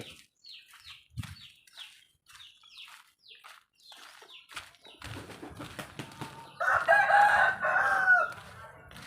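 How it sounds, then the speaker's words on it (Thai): A rooster and chickens crow and cluck in a series of short calls, then a louder, longer crow near the end; the birds sound fairly close with quiet gaps between calls. "ครับ ไก่"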